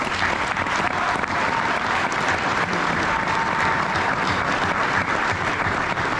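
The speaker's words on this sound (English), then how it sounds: "One more round of applause" A large crowd claps continuously and evenly for several seconds, a dense, steady wash of applause with no voices standing out.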